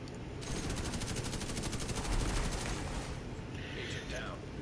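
Rapid, sustained bursts of automatic gunfire and explosive shots from enemy grenade launcher fire in The Division 2 crackle densely through a chaotic firefight, with a voice briefly heard amid the noise.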